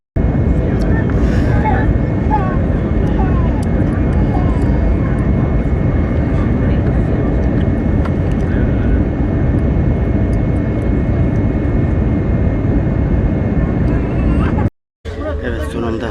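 Airplane engines roar loudly and steadily throughout on a flight arriving in Rome, with faint voices murmuring underneath and a brief cut out near the end.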